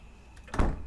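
A door closing in the horror video game Night Blight, a soft brief thud with a low rumble, moderately quiet and alone.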